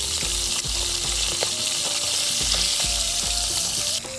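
Fish frying in hot oil in a wok for a village picnic meal, a loud steady sizzle with repeated clattering stirs and scrapes throughout, with no talking.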